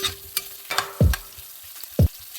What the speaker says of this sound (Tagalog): Then add the onion and the garlic, frying them until golden brown.